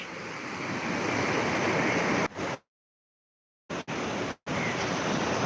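Waves wash steadily over the rocks of Pondicherry's Rock Beach, a broad, close roar of surf mixed with wind, interrupted by a couple of abrupt gaps of silence.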